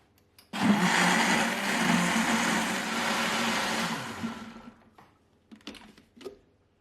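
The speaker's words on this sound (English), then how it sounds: "And now we're going to blend it for a few seconds" A blender whirs loudly and steadily for about three and a half seconds, blending a batter of olive oil, water and flour, then winds down, followed by a few light clinks and taps.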